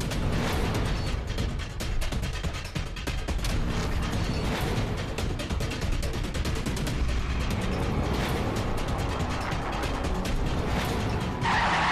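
A car driven recklessly skids, with loud continuous rumbling engine and tire noise filling the whole stretch, close and harsh, with no voices over it.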